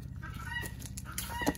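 A rooster held on someone's hip gives soft, close clucks and low throaty calls that come and go over a quiet background.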